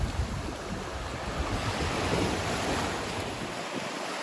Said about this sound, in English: I do love looking at these rocks, where the sea goes crashing up to the rocks.